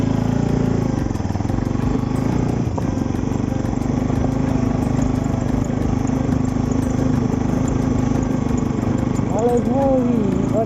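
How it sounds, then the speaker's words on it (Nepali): A motorcycle engine labours continuously and close up while climbing a rocky village road on the route from Kathmandu toward Shivapuri, Nuwakot, a loud, unbroken drone with a faint voice near the end. "कस्तो नतान्ने बाइकले किन हो?"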